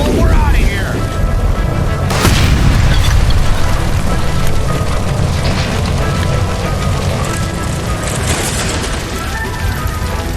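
A gas line by a stove explodes in the video game L.A. Noire, a loud sustained blast and roaring rumble with falling debris that fills the scene, and voices are heard over the noise.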